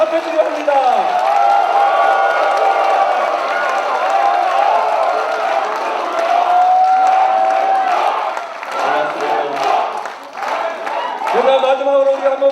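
Crowd at a Korean book-launch event for a provincial governor bursting into sustained applause and cheering, loud and continuous for about twelve seconds, with whoops and shouts rising through the clapping.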